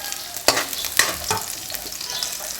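Onions hitting hot oil in a pan for chicken arroz caldo, a few sharp bursts of sizzling and spatula scrapes settling into a steady frying hiss.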